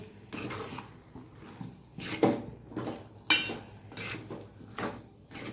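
Boiled potato pieces being stirred into a potato, tomato and fenugreek leaf curry in a pan, with repeated scraping and clinking of a spoon against metal in an irregular rhythm, close and moderately loud, no talk.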